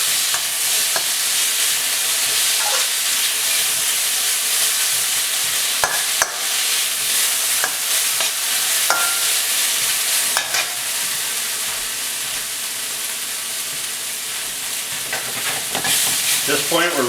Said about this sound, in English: Throw in the garlic.